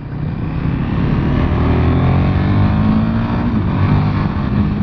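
A KTM 1290 Superduke R engine runs loud and close, a thick, steady droning roar with its pitch rising and falling slightly as the throttle moves, with no voices.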